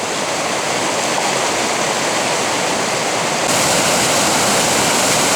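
Fast-running Cross River in Minnesota, a loud, steady broadband rush of churning water that swells slightly louder partway through, close by with no voices.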